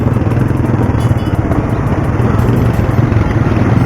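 Steady road traffic in Antipolo, with motorcycle engines droning continuously and loudly close by, a dense rumbling wash of vehicles with no clear pauses.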